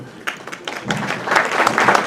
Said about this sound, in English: please show some love, support. Please clap.